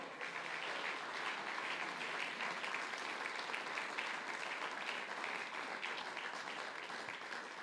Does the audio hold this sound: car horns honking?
no